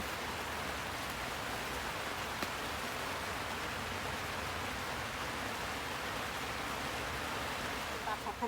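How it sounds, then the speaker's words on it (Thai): Steady rain falling outdoors over a Thai kale garden, an even broadband hiss holding throughout at moderate level without pause. "ฝนตกด้วยทีนี้"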